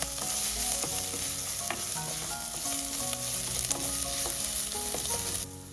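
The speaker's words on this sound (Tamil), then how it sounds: "உள்ளி, கடுகு, மிளகு, ஏலக்காய் இது எல்லாத்தையும் போட்டு நான் வதங்க விட போகிறேன்" Garlic, mustard seeds, pepper and cardamom sizzle and crackle steadily in hot oil while being stirred, with scattered sharp pops and scraping utensil clicks throughout, no voices.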